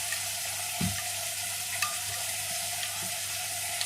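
Mutton curry masala fries steadily in a clay pot, a constant close sizzle with a couple of soft knocks, no voices.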